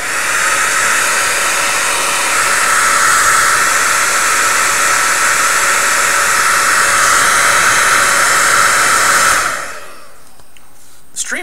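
Hair dryer blowing with a loud, steady broadband whoosh and whine for about nine seconds, then switching off abruptly, leaving quiet room tone and a couple of small clicks.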